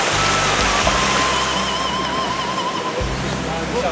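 A hill stream on a ramble near Clougha Pike flows in a loud, continuous rushing wash close by, with brief low wind buffets and no talk.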